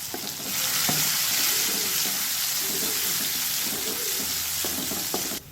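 Crushed garlic frying in oil for vatha kuzhambu, a steady loud hiss of sizzling oil with faint stirring scrapes underneath, close by and continuous.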